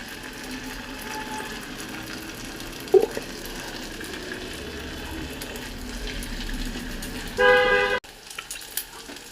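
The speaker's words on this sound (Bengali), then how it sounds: "এইভাবে আমি সমস্ত কুরকুরেগুলোকে ভেজে নেব।" Kurkure snacks made from leftover rice deep-fry in oil with a steady sizzle, broken near the end by a brief loud clatter and a short tonal beep.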